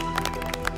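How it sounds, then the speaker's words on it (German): An audience claps in the studio of the LEGO Masters building competition show, a dense, close run of clapping with distinct individual hand strikes, held steadily over a faint tonal background and no talk. "Euer Applaus."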